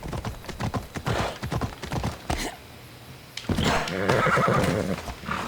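Horse hooves clop in a quick run of sharp beats in Assassin's Creed Odyssey, then after a brief lull a horse lets out a loud, drawn-out neigh that carries to the end.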